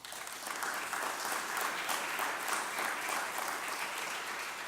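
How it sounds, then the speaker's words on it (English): Steady, dense applause from a large audience at a Philadelphia mayor's commission event, sustained and even throughout without voices. "Give yourselves a round of applause."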